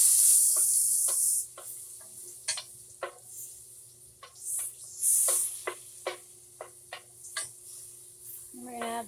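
Butter sizzling and foaming in a pot for soup on a stormy day, a bright hiss at first that drops to a quieter crackle with irregular ticks and pops.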